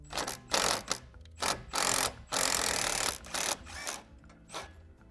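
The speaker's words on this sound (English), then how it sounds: "So now we'll just take our T40, put that on our impact, and use our wrench to hold the nut" An impact driver spins a T40 Torx bit on a sway bar link nut during a Bronco Sport lift kit install, firing in about eight short rattling bursts of varying length, close and loud.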